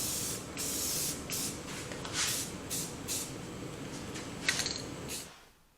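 Bursts of aerosol spray painting hiss in short repeated puffs, some long and some brief, with a faint background rumble, ending in silence.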